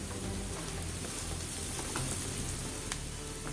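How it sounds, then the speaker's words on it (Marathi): Finely chopped onion sizzles in a hot pan while being cooked down for stuffed capsicum, a steady close crackle of frying with faint pops and no voices. "नंतर हा 1 कांदा मी बारीक चिरून घेतलाय तो घालूया. कांदा जरा मऊ होऊ द्यायचा."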